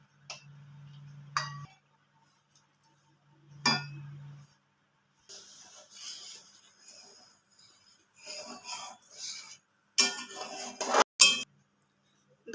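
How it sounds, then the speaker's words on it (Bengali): A metal ladle scoops thickened milk out of a kadai while making rasmalai, giving sparse clinks and scrapes, with a louder cluster of clattering near the end. "আমি কড়া থেকে এই হাতার 2 হাতা দুধ তুলে নেব"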